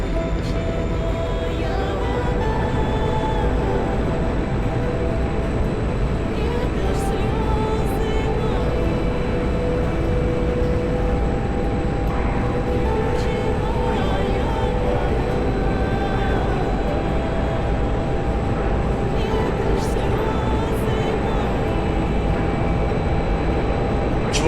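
MiG-21 jet engine in flight in a combat flight game, a loud, steady, dense roar with a constant low rumble that holds unchanged throughout, close and alone, with a few faint clicks on top.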